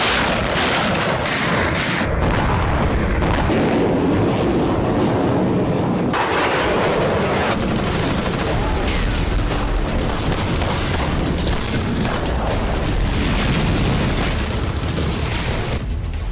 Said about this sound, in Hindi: दूसरा धमाका, तीसरा धमाका, चौथा धमाका, पांचवा धमाका।